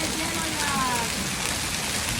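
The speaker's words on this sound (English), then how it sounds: "It's literally raining ice here in Greeley." Hail falling hard like rain in Greeley, a dense, continuous hiss and patter of ice pellets striking surfaces, loud and steady throughout with a faint passing tone in the background.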